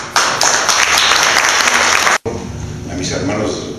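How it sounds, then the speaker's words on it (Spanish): An audience applauds warmly to welcome a speaker at a lecture on constitutionalism, a dense burst of clapping that cuts off abruptly, then resumes more softly. "Un aplauso para recibir a nuestro querido hermano."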